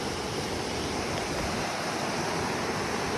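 River water rushing past a hillside picnic spot, a steady broadband wash of flowing water heard close and continuous, with some wind noise and no talking.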